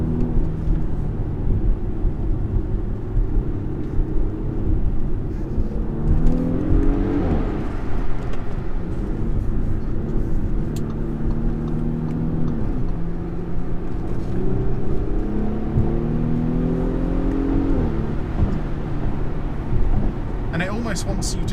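Cabin sound of a 2017 Audi SQ5 V6 under way with the panoramic roof tilted open: a smooth, steady engine drone rising and shifting through gears beneath road and wind noise, while a person talks over it.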